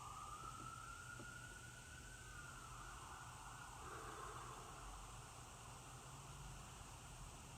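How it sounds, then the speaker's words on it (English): A distant siren wails outside, faint and rising then falling in a long sweep over a steady background hiss, with no voices. "Send love to whatever that siren is about."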